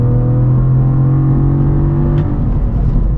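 The 3.6-liter V6 of a 2023 Cadillac CT4-V Blackwing with a manual gearbox drones loud and close under load, its steady engine note dropping off near the end.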